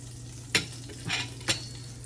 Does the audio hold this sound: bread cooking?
yes